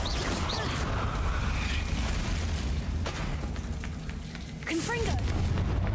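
A Confringo fire spell blasting in the Hogwarts Legacy wizarding game: a couple of short bursts and booms over a steady game ambience with mechanical creaks, fairly loud throughout, with a voice in the background.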